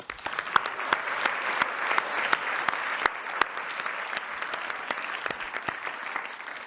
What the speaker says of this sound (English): we want to give you a warm round of applause.